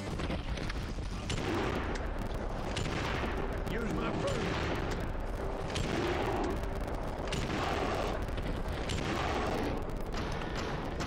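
Rifle gunfire and battle noise in a video game during a bear fight, heavy and continuous with repeated booming shots over a dense, loud background, with a voice talking in places.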